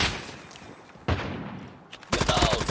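Sniper gunfire in a Call of Duty game. A few sharp, loud shots ring out at separate moments, each followed by a decaying echo, and denser crackling bursts come near the end.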